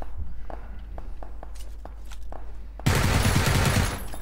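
Automatic gunfire in the PUBG video game rakes a fence, erupting as a loud, sustained burst of rapid shots after a stretch of quiet, scattered ticks and footsteps.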